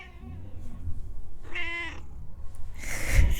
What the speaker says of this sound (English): She's a very talkative cat.